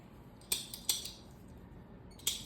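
A stapler fastens banana leaf for a krathong decoration, giving a few sharp, crisp metallic clicks, two close together and one more a moment later, against a quiet background.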